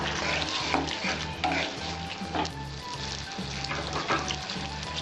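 Water and slit green chilies go into a hot pan while cooking bitter gourd with potato, a steady loud sizzle with stirring scrapes running throughout, no voices.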